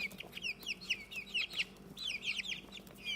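Young chicks, all hoped to be hens, giving a quick series of high chirps and clucks, several birds calling in short bursts over a quiet background with no talk.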